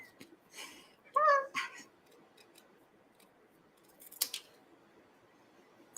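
Scissors snip through paper for a handmade stamped penguin card, a few quick close cuts with a brief pause, then a faint snip later, no talking.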